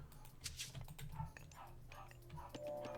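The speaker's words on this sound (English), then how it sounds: "I'm not sure if you hear the dog barking." A dog barking outside, coming faintly through an open window: distant yips and barks sit low under steady indoor background noise.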